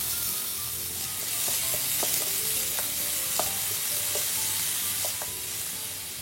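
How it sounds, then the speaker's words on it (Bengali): Bottle gourd leaves and shrimp stir-fried with chopped onion and dried chillies in a pan, a steady close sizzle with intermittent scrapes and clinks of a spatula stirring, no voices. "2 মিনিট নেড়েচেড়ে দিচ্ছি। দুই মিনিট পর আমি চিংড়ি মাছ দিয়ে দিলাম।"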